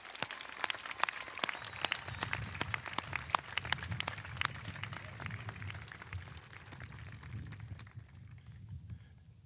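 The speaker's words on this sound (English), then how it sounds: "Let's give them all one more round of applause." Sustained applause from an audience at a high school commencement ceremony, dense clapping that runs steadily for several seconds and then thins out slightly toward the end.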